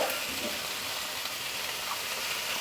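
Cucumber pieces fry in a pan for a fish curry, giving a dense, even hiss that holds steady and fairly loud throughout, with no voices.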